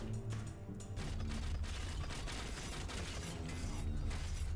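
Cannon fire in the roguelike video game Shardbreakers comes as a dense rumbling barrage of booms and mechanical clatter, continuous and fairly loud throughout.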